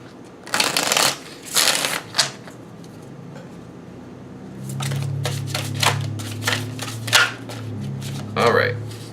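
Tarot cards are shuffled by hand in several quick riffled bursts, close and crisp, with a person talking through the later part.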